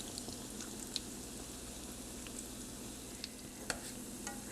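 Falafel balls frying in hot oil with room to move around, a steady soft sizzle and bubbling throughout with a few faint pops and stirring clicks, close and even.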